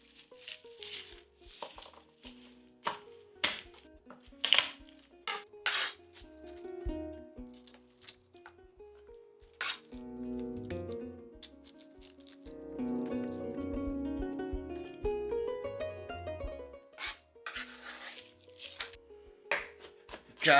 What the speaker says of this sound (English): Just roughly chop this garlic